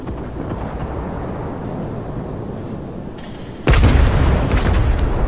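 Battleship main guns firing in the naval game World of Warships, from the battleship Colorado: a sudden heavy boom crashes in after a low steady rumble and a couple of faint clicks, loud and close.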